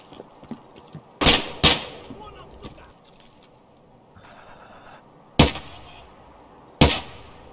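Sharp gunshots in Escape from Tarkov ring out in spaced bursts: a close pair early, then two more single loud cracks later, over quiet ambient game background with a steady faint beeping tone.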